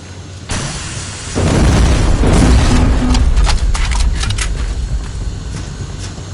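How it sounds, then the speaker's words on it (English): Rocket explosions and blasts in the Terminator Resistance video game: a sharp onset followed by a heavy, sustained booming rumble with scattered crackling bursts, loud and close, with no talking. "Another one! Rockets!"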